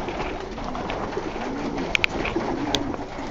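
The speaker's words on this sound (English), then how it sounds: "all the birds are out" A large flock of pigeons, some 75 to 80 birds, is released outdoors: a soft steady rush of background noise with a few short, sharp bird calls popping out near the middle and end.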